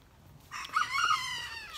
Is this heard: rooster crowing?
yes